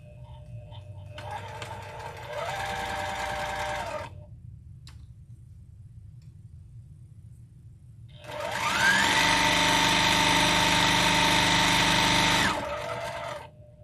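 A sewing machine runs in two stitching bursts while a seam is backstitched at the opening: a shorter, quieter run, a pause, then a longer, louder steady whir that winds down. No one speaks.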